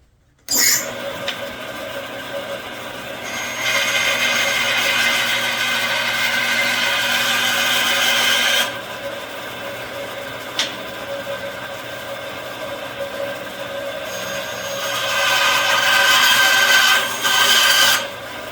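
Micarta knife handle scales being cut with a power tool, a steady loud rasping, grinding whine in long sustained passes, with brief pauses and shifts in intensity and a louder stretch near the end.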